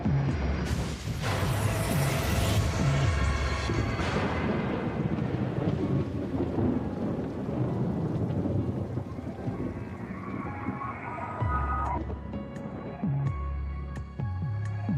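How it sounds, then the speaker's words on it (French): Thunderstorm with loud rolling thunder and steady heavy rain on a June night in the southern United States, a constant dense roar with wind noise, and rumbles rising and falling throughout. "en plein milieu d'un orage"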